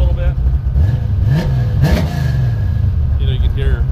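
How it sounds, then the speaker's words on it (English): A 1968 Camaro's engine revs up and falls back in a few short, close blips over a rumbling idle, with people talking nearby. "Go ahead and rev it up one more time"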